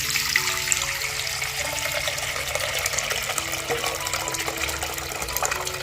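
Water drained off soaked turmeric roots, a steady close gushing and trickling flow lasting the whole stretch with no voices.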